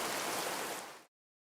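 Steady rain falls in an animated village story where days of downpour flood the farm fields, a dense, even hiss that holds for about a second before cutting off abruptly into silence.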